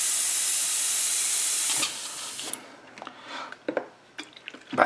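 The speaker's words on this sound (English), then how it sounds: "take some lacquer thinner, blow it through" Airbrush blowing lacquer thinner through during cleaning, a loud steady hiss that cuts off, followed by quieter sputtering spits and short bursts of air.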